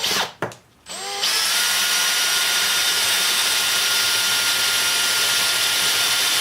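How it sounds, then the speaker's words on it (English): A power drill drilling on a Maverick X3 revs up after a few short bursts and then runs at a steady high whine, loud and close, with no talking. "Drilling the tops."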